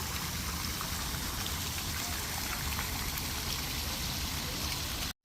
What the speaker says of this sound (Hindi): ऊपर इनकी क्वीन सी बनी हुई है जिसके सर से पानी निकल रहा है